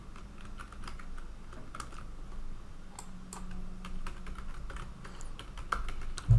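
A new password is typed on a computer keyboard in quick, uneven bursts of close key clicks over a quiet background hum, with a louder click at the end and no speech.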